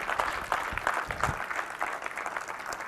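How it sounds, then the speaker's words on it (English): Applause from an audience at a live political event, a moderate spread of clapping with uneven bursts, held steady for a few seconds at middling distance. "can we get some applause going?"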